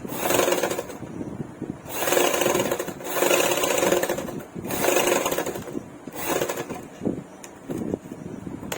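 A sewing machine stitches a blouse, running in several bursts of a second or so each with short pauses between, a steady close mechanical whir.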